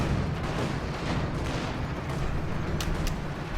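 Battle noise from a Flak Panzer firing in Company of Heroes 2: a continuous rumble of rapid cannon and gunfire with booming impacts, dense and steady throughout, with a couple of sharper cracks near the end.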